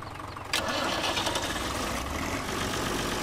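A tractor engine in Farming Simulator 17 turns over and catches with a sudden burst, then settles into a loud, steady mid-pitched running rumble.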